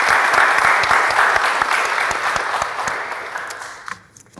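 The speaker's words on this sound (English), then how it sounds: "Let's have one more round of applause." Loud applause from an audience at a Chipola College ceremony honouring two students, many hands clapping densely before thinning out and fading toward the end.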